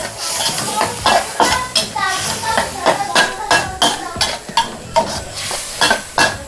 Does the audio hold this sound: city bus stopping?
no